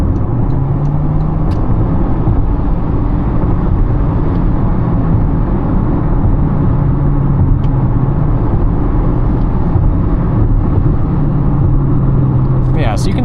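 A Toyota Corolla Hybrid accelerates under power, its steady engine and road drone rising in pitch through the run, with a few faint clicks and a brief higher whine near the end.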